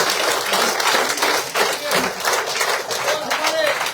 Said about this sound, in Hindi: और जनाब जमील साहब, जोरदार तालियों से,